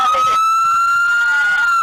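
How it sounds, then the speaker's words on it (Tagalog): Ambulance siren on a highway, a loud, close electronic wail holding a steady tone with a slight pitch sweep near the end, heard alone without talk. "Ayan tama yung ambulansya."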